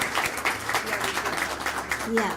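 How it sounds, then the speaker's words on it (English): A crowd at a Student of the Month event applauds with steady clapping while a voice keeps talking over it. "let's give everyone a great round of applause"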